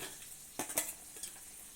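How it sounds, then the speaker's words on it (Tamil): Bay leaf, cinnamon, cloves and cardamom drop into hot oil with a faint, brief sizzle and a few soft clinks of a spoon stirring in the pan, close and quiet. "இந்த இலை, அப்புறமா பட்டை, கிராம்பு, கூட ஏலக்காய் இதெல்லாம் சேர்த்து அப்படியே எண்ணெயில் சேர்த்துடலாம்."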